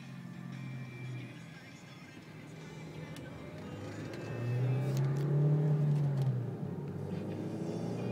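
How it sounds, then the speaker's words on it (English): A 2007 Hyundai Elantra SE engine revs up under acceleration, its pitch climbing and swelling louder midway through as it works through the gears, with a steady road rumble underneath. "I'll show you how it accelerates, shifts, brakes."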